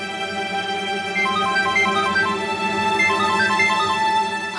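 A phone rings out with a repeating electronic ringtone melody while a call is placed, steady and fairly loud with no talking over it.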